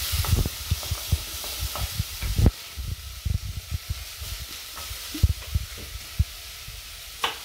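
Chopped vegetables for carrot and coriander soup sizzle and hiss steadily in a hot pan over high heat, with irregular stirring scrapes and knocks on top of the constant frying noise.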